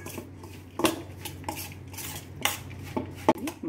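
A spoon clinks and scrapes irregularly against a bowl while a spiced dal masala filling for Rajasthani korma paratha is mixed, with sharp taps standing out over quiet kitchen background.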